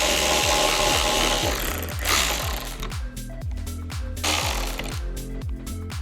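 A ratcheting T40 socket works loose bolts on a Westcott Designs roof rack mounted on a Lexus GX550. Rapid, steady clicking repeats in close, loud bursts with no talking over it.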